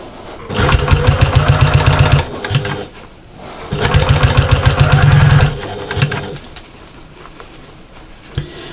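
Sewing machine stitching bias binding onto a small fabric backpack, running fast in two loud, steady bursts of rapid needle chatter separated by a brief pause, then quieter handling sounds.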